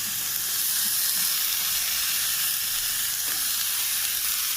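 Carrot, water chestnut and radish frying in a pan, a steady loud close sizzle and hiss that runs without a break, with no voices.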